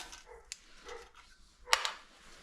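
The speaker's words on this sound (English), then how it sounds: "Yeah, you just bark away out there, dog." A dog barks outdoors, a few sharp yaps at moderate distance breaking through faint background noise during work on a Gravely Model L walk-behind tractor.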